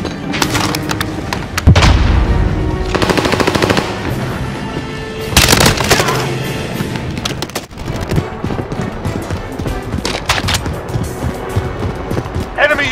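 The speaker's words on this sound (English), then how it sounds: "Grenade out!" Automatic gunfire from a SIG SG 550 rifle and a B&T APC9 K submachine gun in Warzone Pacific on Rebirth Island, with loud bursts punctuated by a heavy grenade blast around the middle and continuing shots after it.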